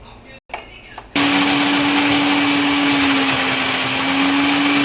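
A brief moment of quiet gives way to a mixer grinder blending mint and coriander chutney, whirring loudly and steadily at close range, a continuous high-pitched motor drone.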